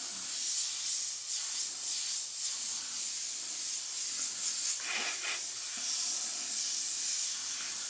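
Freehand airbrush spraying paint in a steady continuous hiss through a live session, with brief pulses as the trigger is worked, close and fairly quiet.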